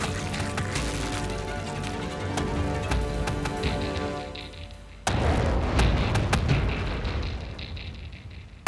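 A heavy boom of cannon fire rings out over a dense, musical background, followed by a rumbling, crackling aftermath.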